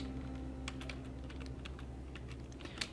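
A computer keyboard is typed on in quick irregular keystrokes, close and light, over a low steady hum of room noise.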